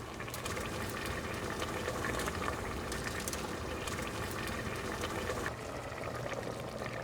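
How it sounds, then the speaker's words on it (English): Tomato soup with tomatoes and garlic simmers and bubbles in a pot on the stove, a steady, faint liquid burble and gurgle as the ingredients go in, with no voices. "The tomatoes are ready to be added to the soup, so we're just going to drop these in."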